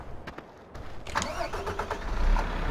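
A truck engine cranks and catches in a farming video game, a few sharp starter clicks followed by the motor turning over and settling into a steady idle that rises slightly at the end.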